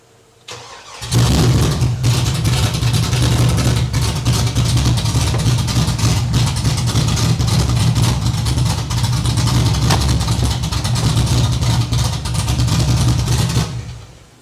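An old truck engine on a budget rat rod chassis swap catches after a throttle pedal assembly repair, then runs steadily at a loud, close, rumbling idle for about thirteen seconds before cutting off.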